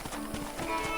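Horse hooves clip-clopping in quick rhythm with a brief neigh from a mount in the Red Dead Redemption video game, close and steady, with faint talk in the background.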